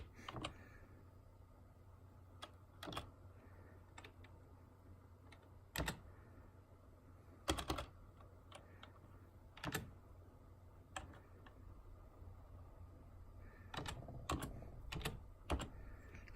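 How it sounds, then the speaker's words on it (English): Scattered keystrokes on a computer keyboard of an old Windows 2000 machine, sparse clicks in short bursts, quiet and close over a low steady hum. "I'm just gonna type the year in myself."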